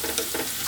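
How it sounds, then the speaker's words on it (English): Aromatics hit hot oil for a Chinese cabbage stir fry, giving a steady, bright sizzle close up with a few swelling pulses as they are stirred; no talking. "I like to put these in first into the hot oil"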